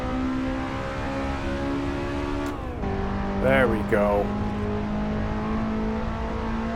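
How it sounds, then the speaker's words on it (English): A Toyota Sera TRD engine revs and drones steadily with a sharp shift in pitch partway through, climbing Pikes Peak in the video game Assetto Corsa, while someone speaks briefly over it. "I need to be revving this out way more"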